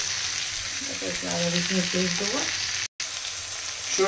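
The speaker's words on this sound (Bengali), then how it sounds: "টমেটো দেওয়া হলো, তেল দেওয়া হচ্ছে, যদি কুকিংটা বেশ ভালো হয়। রসুন দেওয়া হলো," Garlic and tomato fry in hot oil for a Bengali bhetki fish curry, a steady close sizzle running throughout with stirring clatter partway and a brief dropout near the end.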